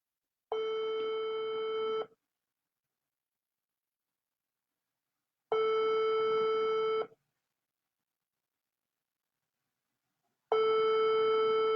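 An outgoing telephone call rings back in three evenly spaced tones, each about one and a half seconds long with silent gaps of roughly three and a half seconds between them; there is no talking.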